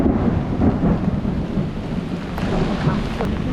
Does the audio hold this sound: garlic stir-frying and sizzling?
no